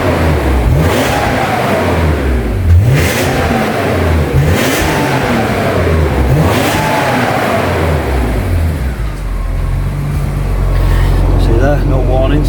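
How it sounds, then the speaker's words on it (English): BMW M3 engine revved while the car sits stationary, several rising and falling throttle blips in a row, loud and close, ending with a steady idle. "A little rev for you."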